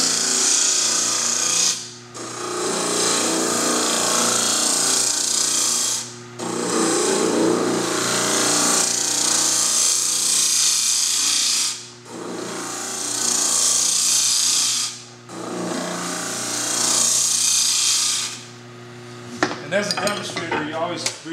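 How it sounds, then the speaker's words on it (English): A wooden lampshade is hollowed on a lathe, the tool scraping and hissing against spinning wood in long loud passes broken by short pauses, with a steady motor hum underneath. "this is my last hollowing down in the bottom there"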